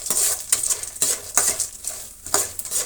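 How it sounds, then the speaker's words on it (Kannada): Chillies, roasted gram and curry leaves fry in a pan, giving a loud, close sizzle broken by regular scraping strokes of a spoon or spatula against the metal, repeating about every half second. "ಇಷ್ಟೂ ಫ್ರೈ ಆಗಲಿ."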